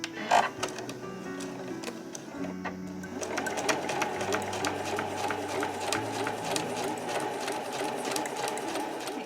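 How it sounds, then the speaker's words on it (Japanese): A home sewing machine runs in a steady rapid rattle of stitches through tatami edging fabric, starting after a brief pause, close by with soft music underneath. "家庭用ミシンの場合は押さえの端を使って縫いましょう。"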